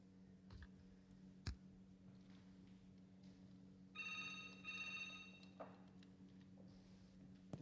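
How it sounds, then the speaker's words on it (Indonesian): A telephone rings nearby in short repeated electronic bursts, preceded by a few sharp clicks like keyboard or mouse taps in a quiet room. "Bentar, ada telepon."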